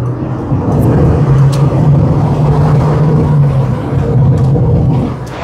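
A Mazda MX-5 NC 1.8 Niseko roadster drives and accelerates, its engine giving a loud, steady, close-up droning hum over continuous road rumble with no break, heard from inside the car.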